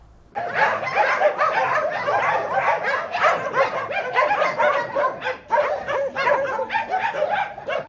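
Many dogs bark and yip at once in a loud, continuous chorus, overlapping from close and farther off, at an animal shelter in Vinnytsia holding over 200 dogs.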